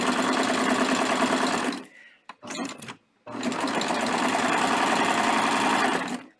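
A serger runs at speed stitching napkin fabric, a loud steady mechanical whir that stops briefly with a few clicks and handling noises, then resumes at full speed until it winds down.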